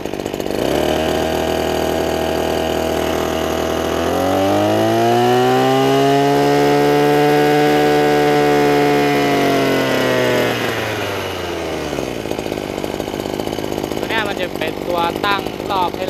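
A Maruyama BC260T two-stroke brush cutter revs from idle up to full throttle, holding a loud, steady high whine for several seconds before dropping back to idle, with a voice talking near the end.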